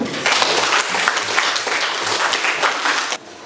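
A class of pupils claps together on cue, a lively close burst of applause lasting about three seconds before stopping abruptly.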